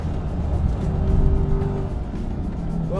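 A Chevrolet Corvette E-Ray hybrid AWD sports car is driven hard in track mode, its engine droning and rising in pitch as it passes, with tire noise near the end and a steady, fairly loud presence throughout.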